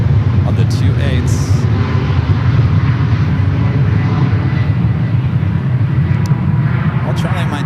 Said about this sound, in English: Alright, the Lufthansa 747. Next heavy arrival on the 28s.